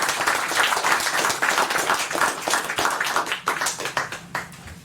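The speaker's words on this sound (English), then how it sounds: "Let us give these outstanding citizens a round of applause." A crowd at a city council meeting applauds steadily, dense clapping from many hands close by, tapering slightly near the end with no talking.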